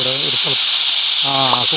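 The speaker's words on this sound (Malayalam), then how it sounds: "കുക്കർ വിസിലടിച്ചു." A pressure cooker in a home kitchen gives off a steady, loud, high steam hiss that runs unbroken through the whole moment while people talk over it.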